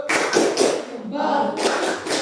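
Students in a classroom give a patterned applause cheer: bursts of clapping and thumping hands come in loud, rhythmic waves with a brief lull in the middle, while voices mingle in.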